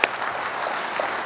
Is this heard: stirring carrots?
no